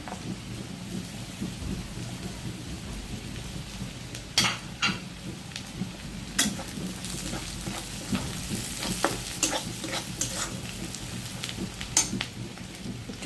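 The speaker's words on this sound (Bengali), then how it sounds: "হালকা ভেজে নিব রসুনটা" Whole garlic cloves frying lightly in a pan give a steady close crackling sizzle, with scattered sharp pops and clatter from stirring throughout. No one speaks.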